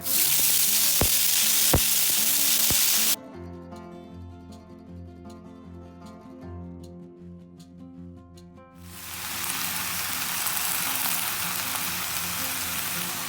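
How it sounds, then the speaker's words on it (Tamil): Curry leaves and brinjal hit hot oil, a bright hiss at first, then a quieter stretch with a tonal background before the sizzle swells again, continuous and close. "இந்த ஸ்டேஜில் கருவேப்பிலை, கத்திரிக்காய் ரெண்டும் சேர்த்துக்க போகிறேன்."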